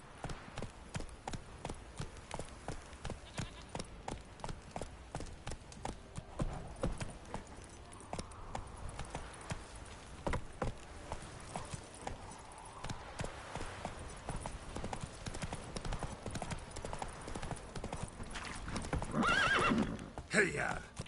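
Roach, a horse in The Witcher 3: Wild Hunt, clip-clops at a steady gallop throughout, whinnying loudly near the end, with someone talking over the hoofbeats.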